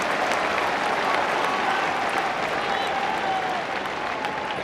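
A cricket crowd at a Pro40 final between Sussex and Nottinghamshire applauds a dot ball, producing a steady, even wash of clapping that carries on without letup from a large stadium audience.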